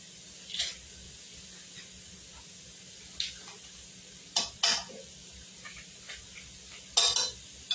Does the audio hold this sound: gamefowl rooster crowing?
no